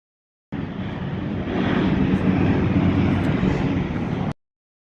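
Aircraft engines roar steadily, swelling slightly as planes pass by at a moderate distance, with no voices present.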